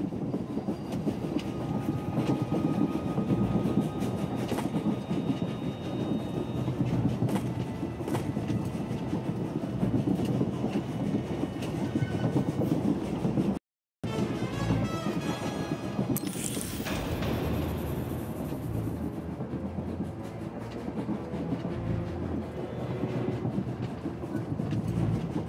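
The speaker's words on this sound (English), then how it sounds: "The train is on the move, and the traitor's on board." An Umbaran supply train on the move, a steady loud rumble of rail cars with rhythmic clickety-clack and mechanical clatter throughout, a brief silent break midway, then a rising hiss and squeal.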